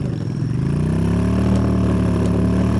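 Motorcycle engine in the mobile video game Undawn, resembling an old Suzuki bike, idling and then revving up in pitch before holding a loud steady drone close by.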